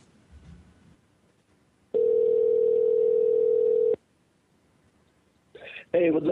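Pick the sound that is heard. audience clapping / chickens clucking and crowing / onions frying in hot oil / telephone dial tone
telephone dial tone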